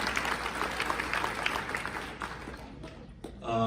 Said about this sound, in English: So can we please give one more round of applause to those who made this event happen.